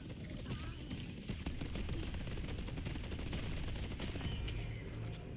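A deployed turret in a shooter video game fires a rapid, sustained stream of automatic gunfire, loud and steady throughout, with faint voices underneath.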